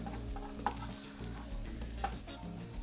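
Garlic confits in oil in a pan for sisig, giving a low, faint, steady bubbling sizzle with a couple of small clicks and a background hum.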